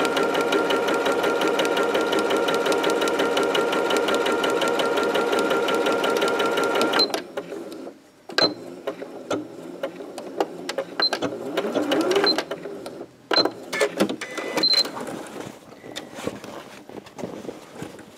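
Sewing machine topstitching a fabric tote bag, running in a fast continuous whir for about seven seconds, then stopping, followed by scattered handling clicks and light rustles.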